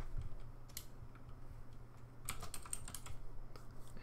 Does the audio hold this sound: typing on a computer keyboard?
yes